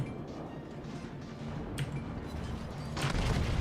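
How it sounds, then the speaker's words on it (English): Distant battleship gunfire in the World of Warships video game, from a North Carolina battleship firing, heard as a low rumbling din with a couple of sharp cracks and a heavier boom near the end. "North Carolina fired at me again."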